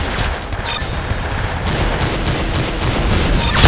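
Rapid bursts of gunfire from the Roblox game Arsenal, loud and dense, packed closely together with no pauses across the whole stretch.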